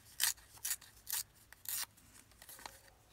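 Paper being torn by hand for a craft embellishment, several short separate rips with pauses between them, close and fairly crisp, no talking.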